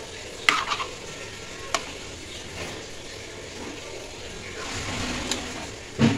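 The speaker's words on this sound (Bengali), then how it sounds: "ঘি দিয়ে নেড়ে নেবো।" Khichuri being stirred with ghee in a pot for a vegetarian winter-vegetable lunch: soft, steady scraping and faint sizzle, with a few sharper utensil knocks near the start and end, close and moderately quiet.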